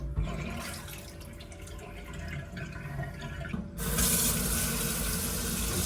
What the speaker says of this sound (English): Rinse all that out.